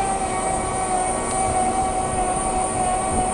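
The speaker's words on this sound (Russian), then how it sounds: "Вот подъезжает катер с военного корабля." Steady engine drone of a launch from a warship approaching, running continuously, with a constant mechanical hum and broadband rumble, no voices.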